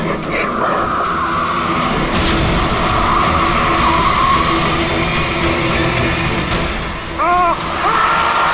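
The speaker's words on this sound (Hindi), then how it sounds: "गाड़ी की ब्रेक क्यों नहीं लग रही?" A car with failed brakes skids with a long, loud tire screech and engine roar that lasts several seconds, ending in short squeal bursts, close and harsh.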